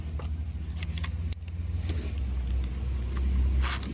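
A car rumbles past nearby, its low engine drone swelling and fading steadily against outdoor background noise.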